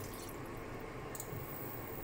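About half a cup of water goes into a hot pan for Filipino-style fish sarciado, giving a steady close hiss and sizzle with faint drips and no talking.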